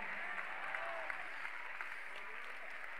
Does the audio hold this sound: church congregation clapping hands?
yes